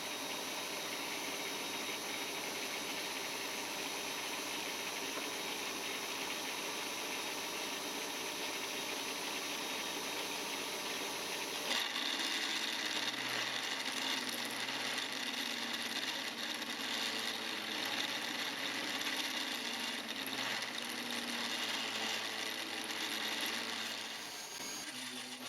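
The spindle of a homemade milling machine drills slowly, a continuous motor hum and whirr that shifts to a deeper, heavier tone partway through, then eases near the end, with no speech.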